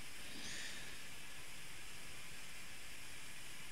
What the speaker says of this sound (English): A hot, steaming pipe.